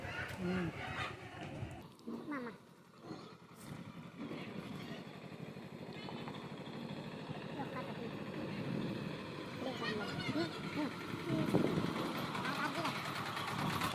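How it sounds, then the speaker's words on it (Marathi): A tractor engine rumbles and chugs steadily as it approaches at a village fair, growing slightly louder toward the end, with people talking over it. "बहिणीचा ट्रॅक्टर येत आहे"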